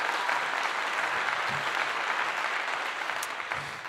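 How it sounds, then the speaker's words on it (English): Congregation applause at a religious gathering during the Feast of Tabernacles, a dense, steady wash of clapping throughout, fairly distant and continuous with no voices standing out. "Next round of applause for that."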